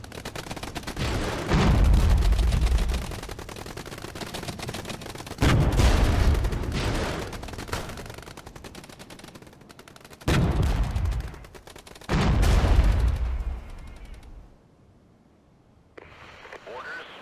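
Leopard tanks fire on infantry in the Regiments war strategy game: several loud cannon blasts arrive a few seconds apart, each followed by rattling gunfire and rumble, before the action fades to near silence.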